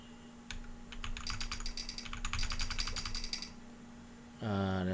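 Rapid clicky keystrokes from a mechanical keyboard with Green Matcha switches, a dense run of close, crisp taps that stops abruptly before a brief tonal beep.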